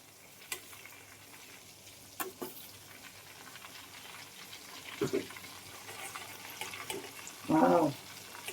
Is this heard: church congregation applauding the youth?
no